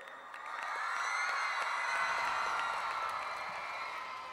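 A concert audience, with a banda on stage, claps and cheers in a steady, broad wash that swells after a moment and holds at an even level, heard from a distance.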